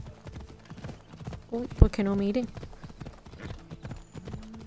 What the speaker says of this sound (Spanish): Nosotros vamos aquí a caballo tranquilamente sin meternos con nadie.